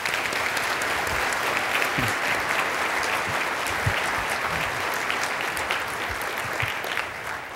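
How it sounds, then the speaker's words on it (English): Sustained applause from a conference audience after a keynote speaker's talk, dense steady clapping filling the room for several seconds without a break. "Let's give him another round of applause."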